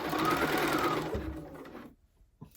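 A sewing machine runs steadily, stitching a blazer side seam through about four layers of fabric and a pocket piece, a continuous close whirr that stops partway, followed by near-silence and a faint handling knock.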